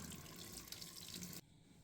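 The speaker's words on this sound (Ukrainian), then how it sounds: "Та потім змиваємо все звичайною водою." Running water rinses shampoo out of a beard, a steady close hiss of the flowing stream that cuts off abruptly near the end.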